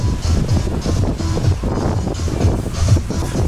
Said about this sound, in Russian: На море ветерок.